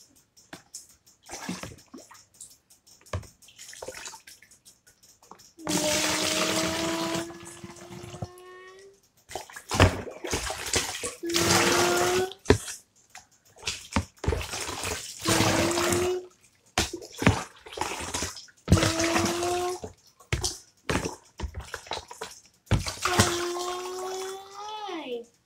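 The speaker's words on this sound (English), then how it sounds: "Six mugs of water will fill the bucket." Water poured from a mug into a bucket in repeated bursts of splashing and gurgling, each pour rising in pitch as the bucket fills, separated by short pauses with some talking.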